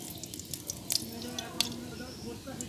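Oil sizzles in a heated karahi while chhana paratha is being prepared, a soft crackling hiss broken by sharp spattering pops, with someone talking over it.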